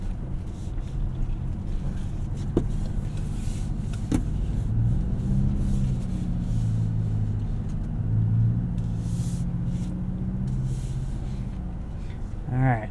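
2024 Toyota Tacoma Trailhunter with OME suspension crawling off-road over rough rock, a steady low engine rumble with occasional sharp knocks and bumps from the chassis, close and continuous throughout.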